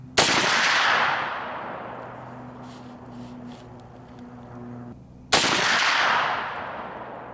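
Two loud, sharp rifle shots from a 45-70 Government rifle with heavy 300 and 350 grain loads, fired outdoors about five seconds apart, each with a long decaying boom and a quiet gap between them.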